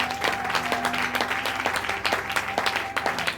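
A church congregation claps and cheers during a service, with dense applause carrying through and a sustained tone beneath it, sharp claps spiking at intervals.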